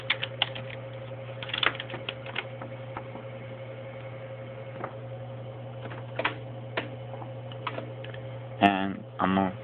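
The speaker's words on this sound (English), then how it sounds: "Apparently I'm gonna have to type Facebook in." Soft, irregular tapping while typing into a phone, quiet taps scattered over a steady low electrical hum, with a brief burst of louder sound at the end.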